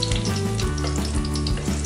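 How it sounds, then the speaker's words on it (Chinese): Whole garlic cloves fry in hot oil with a steady, close crackling sizzle that continues evenly throughout, with no talk. "让它均匀的煎上色"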